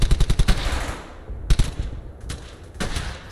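Machine gun fire in the WWII shooter Brothers in Arms: Hell's Highway, a loud rapid burst of shots up front, then single heavy cracks near 1.5 and 2.8 seconds with quieter rumble between.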